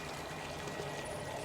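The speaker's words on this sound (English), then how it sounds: "You can turn the tap off." A bath tap runs into a filling tub, a steady, even rush of flowing water that stays constant and moderately quiet throughout, with no voices.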